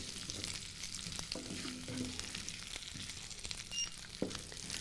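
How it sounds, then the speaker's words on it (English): Green and red peppers sauté in a hot pan, giving a steady close sizzle with a few soft stirring knocks and scrapes throughout. "while these vegetables are getting sauteed"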